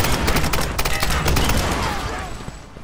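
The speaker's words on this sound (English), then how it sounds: "Okay, I'm gonna shoot this thing." Rapid gunfire from the Tomb Raider 3 video game, a dense burst of shots that stays loud and continuous for a few seconds.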